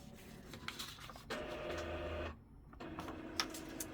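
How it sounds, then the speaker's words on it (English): A nearby printer whirs and clicks mechanically as it prints, with a steady motor hum that pauses briefly and then resumes. "You can hear my printer going now."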